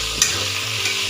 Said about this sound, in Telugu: దీనికి మనం ఫ్రై చేస్తాం